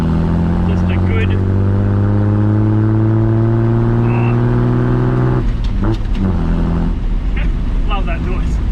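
An old Mahindra 4x4 engine revs with a loud, steady low drone that holds for several seconds, then dips and picks up again. The engine runs throughout, with a person talking over it.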